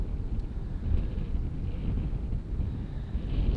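Wind gusts across an open seaside golf course at Barton on Sea, a steady low rumble buffeting the microphone with slight swells, moderately loud and without speech.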